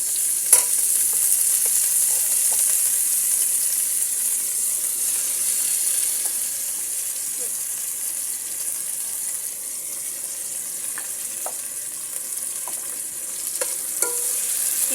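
Chopped onions frying with ginger garlic paste in hot oil, a steady close sizzle with occasional stirring clinks and scrapes of a utensil, no voices.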